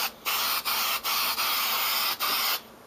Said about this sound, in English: Now I'm going to just spray on